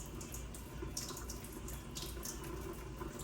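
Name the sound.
hands being washed under running tap water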